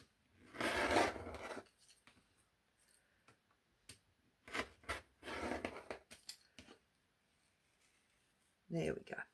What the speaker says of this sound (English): So I'm just going to snip all the way through there.